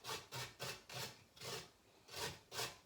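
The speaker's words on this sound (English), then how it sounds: "Listen to the sound of the grater. Can you hear it making that grating noise?" A carrot is rubbed over a sharp kitchen grater in about seven even strokes, each a crisp rasping scrape separated by short pauses, heard close up and alone.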